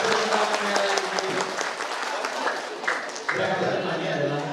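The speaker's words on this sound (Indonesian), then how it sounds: "tepuk tangannya lagi" An audience applauds at an academic seminar held for a Universitas Terbuka Palembang regional graduation, a sustained burst of clapping under a speaking voice, with a brief dip before it swells again.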